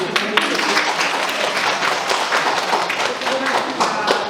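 A hospital audience gives a lecturer a dense, sustained round of clapping after an hour-long talk; the applause stays steady and fairly loud throughout.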